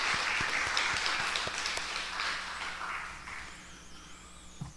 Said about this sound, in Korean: 우리 하나님께 중심을 담아서 영광의 박수를 올려드리겠습니다